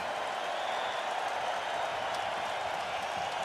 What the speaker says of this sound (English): The crowd is loving it here.